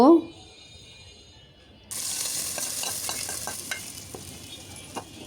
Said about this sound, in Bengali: এখন এটাকে গোল্ডেন ব্রাউন করে ভেজে নিব।